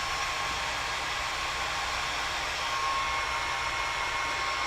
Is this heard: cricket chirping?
no